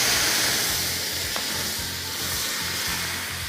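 Meat juices deglazed in a Cristel stainless steel frying pan, giving a loud, dense, continuous sizzle and hiss close up with faint scraping underneath and no talking.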